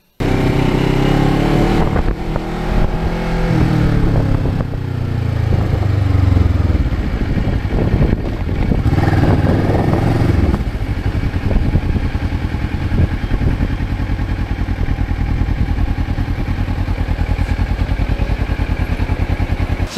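A Kawasaki Ninja 650R motorcycle engine drones loudly and continuously while riding. Its pitch rises and falls with throttle and gear changes, and heavy wind rumble runs throughout.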